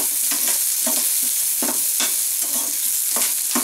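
Onion, ginger and garlic sauté in a pan for a Kerala kadala curry, a loud constant sizzle punctuated by a regular rhythm of spatula scrapes and knocks against the pan, with nobody talking.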